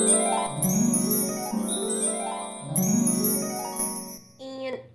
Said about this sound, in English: you gotta love making wind chimes